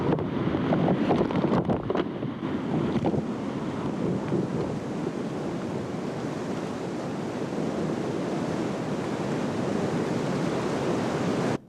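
Granite Falls Rapid in the Grand Canyon roars steadily for the whole stretch, a dense, loud whitewater churn with a few sharp splashes near the start and no voices.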